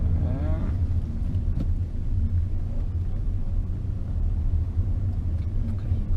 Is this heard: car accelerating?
yes